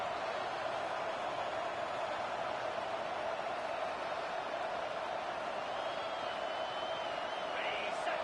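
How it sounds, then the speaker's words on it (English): A packed stadium crowd at a football game roars continuously at a steady, loud level, a dense wall of sustained cheering with a faint whistle near the end. "wow, listen to this crowd noise. This stadium is vibrating."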